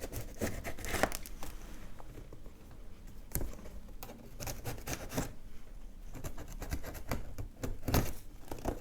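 Parcel box from Russia cut open with small manicure scissors, giving steady close rustling, crinkling and tearing of cardboard and tape with sharp snips and thumps throughout.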